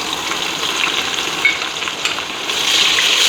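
Onions frying in a pan with salt and no oil while a stew is prepared, a steady crackling sizzle with light stirring scrapes that swells toward the end, close and with nobody speaking.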